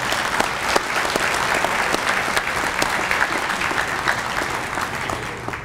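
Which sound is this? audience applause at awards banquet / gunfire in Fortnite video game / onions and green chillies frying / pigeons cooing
audience applause at awards banquet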